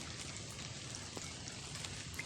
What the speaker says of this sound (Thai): บรรยากาศคึมๆฝนกับลิ่นๆอยู่พี่น้อง